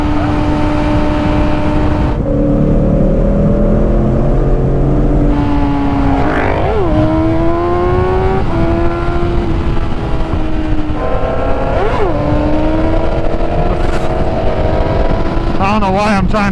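A Yamaha R6 sport motorcycle accelerates hard, its engine note climbing in pitch and then dropping with each gear shift, several shifts in a row, loud and close, with a rider's voice heard over the noise.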